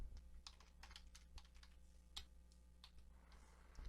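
Quiet, close keystrokes on a computer keyboard tap in irregular quick bursts with short gaps, over a faint low hum, with no voices.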